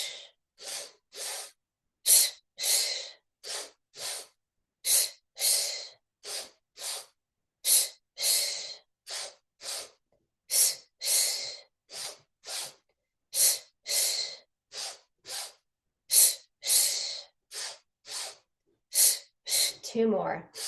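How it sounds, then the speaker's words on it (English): Deep, forceful breaths in a group breathing exercise come in a steady rhythm of sharp, loud inhales and exhales, close and repeated dozens of times with no talk. "Breathe deeper."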